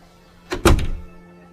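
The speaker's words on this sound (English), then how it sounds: "And the woman closed the door." A door swings shut with a single solid thunk, close and fairly loud, followed by a short fading rumble and then quiet.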